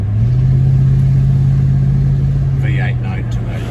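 A Mercedes-Benz ML430 with a V8 holds a steady, deep engine drone at close range, with a voice briefly cutting in near the end.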